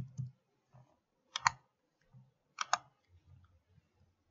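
Two crisp keyboard clicks, a Control and Enter keystroke on a computer keyboard while running code in R, sound about a second apart against a quiet room with faint low murmurs in between.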